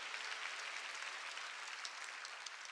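Congregation applause fills a church during a sermon, a steady dense wash of clapping that holds at an even level throughout without voices.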